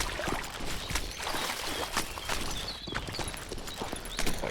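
Character in Call of Juarez Gunslinger wades slowly through water, soft repeated sloshing steps at a walking rhythm, fairly quiet and close, no talk.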